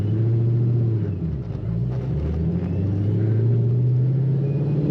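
A 2009 Ford Mustang Shelby GT500 Super Snake idling with its supercharger: a steady, loud low engine rumble close by, with a faint high whistle barely standing out above it.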